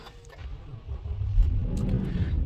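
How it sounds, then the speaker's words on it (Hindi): The V8 engine of a Toyota Land Cruiser AXG idles just after a push-button start, a deep, close, steady rumble that swells slightly partway through. "तो गाड़ी इस वक्त मैं स्टार्ट कर चुका हूँ।"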